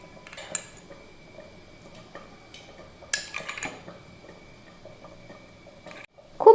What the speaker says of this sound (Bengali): কেশরটাকে ভালোভাবে এইভাবে একবার গুলিয়ে নিতে হবে, যাতে সমস্ত রঙটা এর মধ্যে বেরিয়ে আসে